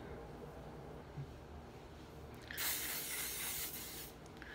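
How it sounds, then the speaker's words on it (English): Hair spray hisses out of an aerosol can in a steady burst of about two seconds, close and fairly loud, over a faint background. "That's just a little spray, just to dirty it up a bit."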